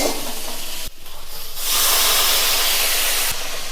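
Water poured into a pan of frying boiled potatoes with salt, for a sago and potato dish, bursts into a loud, steady steam hiss that swells and holds for a couple of seconds after a brief clatter.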